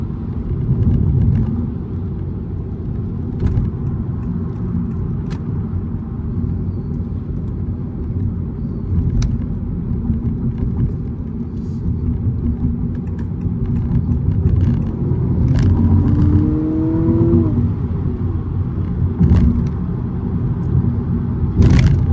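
A 2025 Honda Civic e:HEV hybrid sedan takes corners, heard from inside as a steady low road-and-tyre rumble with a faint rising electric whir partway through, no voices.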